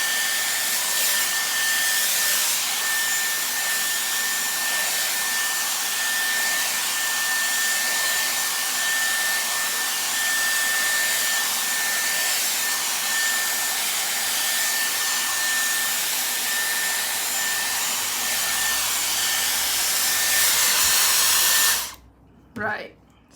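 A Dyson Airwrap hair styler blows hot air in a steady, loud, continuous whoosh with a faint high whine, running alone for about twenty seconds before cutting off abruptly, followed by a couple of brief handling sounds.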